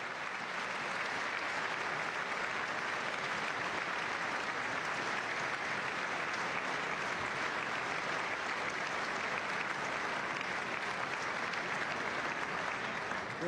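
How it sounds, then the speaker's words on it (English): An audience applauds steadily during a State of the Union address. The dense clapping is even and unbroken for about thirteen seconds, with no speech standing out above it. "That's worth applauding and standing up for."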